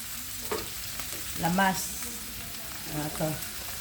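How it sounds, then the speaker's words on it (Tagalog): Chicken frying in a pan for adobo, a steady close sizzle with utensil stirring and scraping, while a voice talks intermittently over it. "piniprito kong chicken"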